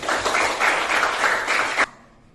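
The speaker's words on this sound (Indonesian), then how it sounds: "Tepuk tangan untuk kelompok saya." A class of students claps in steady applause for about two seconds in a classroom, then it stops abruptly and the room falls quiet.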